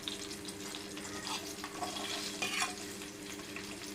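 Ingredients for ginger chutney, such as urad dal, fry in a pan with a soft, steady sizzle and occasional light stirring clicks, quiet and without talk.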